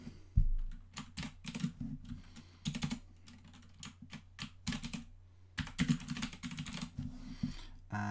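Typing on a computer keyboard while entering a name into a student quiz app: quick, close, uneven bursts of key clicks, alone and fairly quiet, with short pauses between runs of keystrokes.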